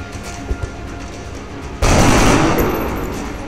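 Gunfire in XCOM: Enemy Within as a soldier shoots a zombie: a loud, sudden burst of shots that cuts in after quiet game ambience and rings out, slowly fading.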